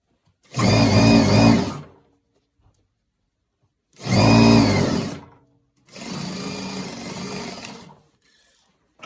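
Sewing machine stitching a narrow side seam, just under a quarter inch, on a fabric medical mask: three loud close bursts of rapid motor whir, each one to two seconds long, separated by silence.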